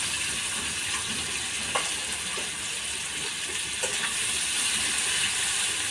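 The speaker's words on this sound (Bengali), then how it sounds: "আলুটা ভাজা হয়ে গেছে।" Potatoes frying in a pan for a fish curry: a soft, steady sizzle hisses throughout, with a few faint clinks and stirring taps close by.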